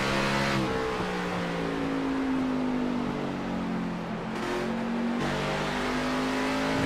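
A race car engine in the iRacing Xfinity Series at Richmond holds steady on throttle, a loud continuous drone with rising and falling harmonic tones as other cars pass close by, no talk.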